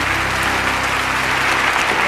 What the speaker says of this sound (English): And they all applaud for each other.